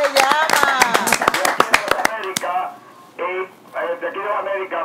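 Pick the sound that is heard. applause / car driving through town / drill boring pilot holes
applause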